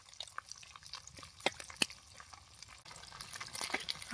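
Semolina-coated fish pieces fry in hot oil, giving faint, scattered crackles and pops with a few sharper spits over a quiet bubbling background.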